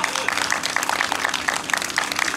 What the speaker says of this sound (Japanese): ハリーの尻尾さんに比べて3分の1のサイズのドラムセットで頑張る赤瀬くんにもう一回拍手お願いします